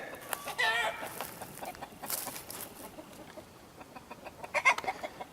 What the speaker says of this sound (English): Chicken coop, happy chickens, everything good, right?